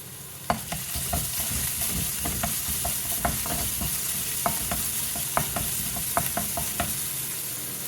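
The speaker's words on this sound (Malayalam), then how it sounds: "ഇതിലേക്ക് ഇഞ്ചി ചതച്ചത് ചേർത്ത് വെക്കാം അപ്പോൾ ഫ്ലെയിം വളരെ ലോ ആക്കിയാണ് വെച്ചിട്ടുള്ളത്" Crushed ginger and garlic frying on a low flame for a roasted-coconut chicken curry, a steady close sizzle broken by regular spatula taps and stirs.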